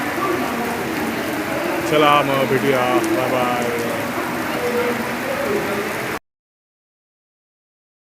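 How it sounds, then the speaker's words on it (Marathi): Steady monsoon rain falls over an outdoor Mumbai setting near a train station, a dense continuous hiss lasting about six seconds while someone talks over it briefly before the sound cuts off. "शेवटी मुंबईला पाऊस लाभला आहे"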